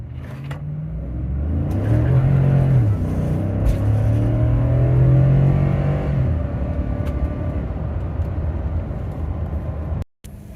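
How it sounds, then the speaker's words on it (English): A 2015-2018 Ford F-150 with a 5.0 V8 and a Rough Country cold air intake rolls into the throttle and then floors it, its engine rumble rising and swelling in pitch before easing off, heard from inside the cab without speech. "we'll give it a hard acceleration here from this light. I'll roll into it and then floor it."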